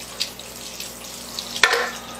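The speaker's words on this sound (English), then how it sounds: "under some running water." Tap water running over a freshly cleaned, gutted fish at a sink, a soft steady wash with a few brief splashes and one sharper burst of spray as the fish is rinsed, close and fairly quiet.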